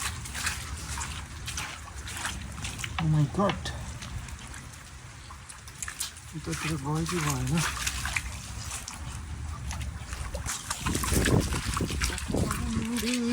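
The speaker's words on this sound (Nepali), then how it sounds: "सहारा कौसीमा खोला बग्यो" Heavy rain pours onto a terrace in Kathmandu, water running and trickling across the surface in a steady wash, with excited voices talking over it throughout.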